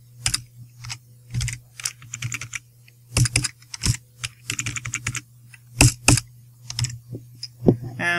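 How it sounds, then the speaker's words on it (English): Keys clatter in irregular bursts on a computer keyboard while entering coordinates for a nuke missile launcher in a Minetest mod, crisp close clicks with short pauses and a steady low hum underneath. "You're going to want to type in the correct position that you want to hit."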